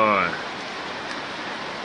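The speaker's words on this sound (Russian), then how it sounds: "У нас идет дождь." Steady hiss of rain falling, filling the background after a brief voice at the very start.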